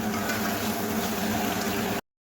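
Chicken sautés with spices in a pan, making a dense, steady sizzle and bubbling at close range that stops abruptly.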